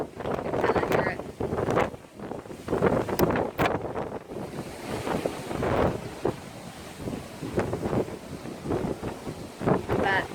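Strong wind buffets the microphone on the open deck of the Carnival Vista cruise ship at sea, roaring in loud, uneven gusts throughout.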